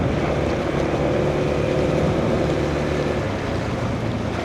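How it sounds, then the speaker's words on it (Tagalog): Strong wind blowing steadily outdoors during rain in Dingalan, Aurora, a constant broadband roar with no breaks and no voices. "Malakas ang hangin"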